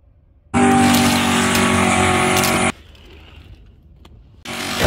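Hot Wheels diecast cars race down a track, a loud close whirring roll of plastic wheels for about two seconds that stops abruptly, then quiet clatter before another burst starts.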